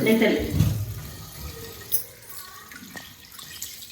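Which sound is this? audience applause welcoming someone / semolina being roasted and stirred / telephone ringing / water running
water running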